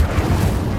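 A brief, loud roaring burst of flame from the Incendio fire spell in the video game Hogwarts Legacy, deep and rumbling for under a second.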